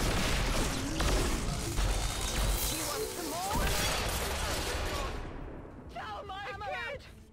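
Rail cannon firing in the video game XCOM 2 during an assault on a UFO: a dense, loud wash of crackling impacts and booming blasts that settles into whirring, chirping electronic tones toward the end.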